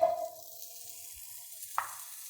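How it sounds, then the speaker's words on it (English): Diced potatoes meet a little oil in a warm pan, giving a faint, low sizzle after a brief initial hiss, with a single short utensil clink near the end; quiet and without voices. "I'm going to add a little bit of oil. Add some diced potatoes."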